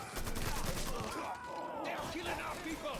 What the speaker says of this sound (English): Да они просто бездумно стреляют